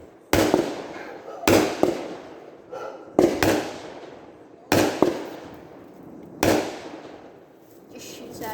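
A Brain Freeze firework cake fires six shots outdoors, each a loud sharp bang followed by a fading crackling tail, spaced roughly a second or more apart.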